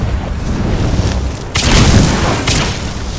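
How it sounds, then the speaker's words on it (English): A fire bolt spell cast in Skyrim bursts out with a loud booming whoosh, a sustained roaring blast that swells abruptly and rumbles on for over a second before a second surge. "So let's cast the fire bolt spell."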